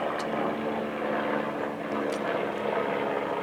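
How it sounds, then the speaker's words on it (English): Helicopter or light aircraft engine droning steadily overhead, a continuous loud broadband rumble with a low tonal hum that holds level throughout, with no other sound standing out. "I think that's a helicopter."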